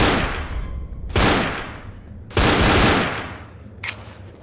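Gunfire in Left 4 Dead, three loud close bursts of shots about a second apart, each decaying into a ringing tail, with a shorter fourth crack near the end.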